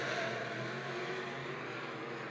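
Race cars circle a dirt track during a heat race, a continuous distant roar of engines blending into a dense, steady drone without clear individual passes.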